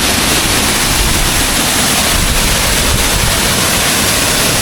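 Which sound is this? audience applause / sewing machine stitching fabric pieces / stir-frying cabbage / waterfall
waterfall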